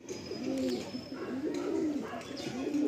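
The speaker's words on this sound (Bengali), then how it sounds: "বেশ অনেকগুলো কালাঙ্কা পায়রা আমরা দেখছি" Several kalanka pigeons coo in soft, repeated rolling phrases at close range, with a few faint chirps and a steady low background hum.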